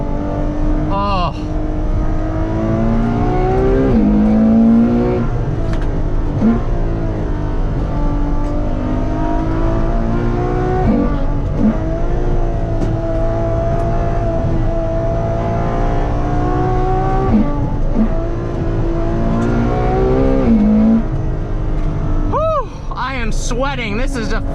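A Ferrari 812 Competizione with a front-mounted V12 roars loudly from inside the cabin, its engine note rising and falling through sustained revving and gear changes as the driver talks excitedly over it.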